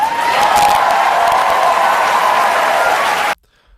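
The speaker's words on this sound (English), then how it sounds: "that was the biggest applause line that I saw out of the entire special" Loud, dense audience applause from a large crowd at a stand-up comedy special, sustained evenly for about three seconds before cutting off abruptly into silence.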